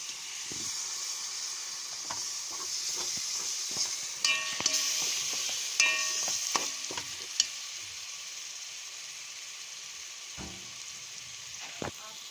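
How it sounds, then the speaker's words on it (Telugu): Curd goes into a sizzling chicken curry in a pan and gets stirred, giving a steady frying hiss with scraping spoon strokes and occasional clinks throughout, and no talking. "ఇప్పుడు నెక్స్ట్ కర్డ్ వేసుకుంటున్నా."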